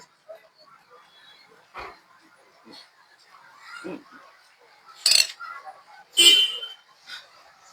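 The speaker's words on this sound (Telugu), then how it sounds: "మా ఇంటి దగ్గర ఉండే డాగ్స్ ఇది ఒకటండి బ్లాక్ అండ్ వైట్" Street dogs near a house, one black and white, are given hot food outdoors, making scattered whimpers, snuffles and short yelps, some close and sharp, with occasional voices in between.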